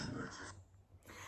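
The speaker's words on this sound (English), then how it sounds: "That's my dog snoring in the background." Low, rough breathing sounds from a sleeping dog, a soft snoring rumble close by with a brief quiet gap, fairly faint overall.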